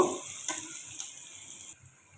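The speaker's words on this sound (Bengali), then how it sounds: "আমি পেঁয়াজটাকে আর একটু ভেজে নেব।" Chopped, salted onion frying in a pan for a Korbani meat curry, a soft, fairly faint sizzle with a few light clinks early on, close and without speech.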